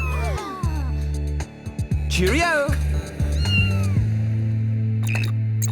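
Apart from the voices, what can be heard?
cat meowing, cartoon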